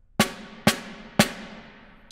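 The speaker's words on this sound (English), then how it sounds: "So just the drum sound, and now with a snare sound." A wooden snare drum struck three times with the snares engaged, each hit a sharp, bright crack with a buzzing rattle that rings out and decays, evenly spaced and close with no talking.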